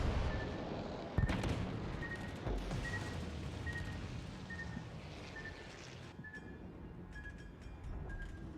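Warship guns in World of Warships: Legends firing at a destroyer: a sharp report followed by continuous rumbling booms over a steady engine drone, with a faint high tone beeping at regular intervals and no talking.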